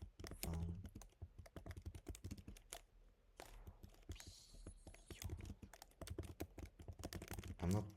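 Fast, irregular keyboard typing on a computer, clicks dense and close throughout with a short pause near the middle, faint voice-like sounds in the background.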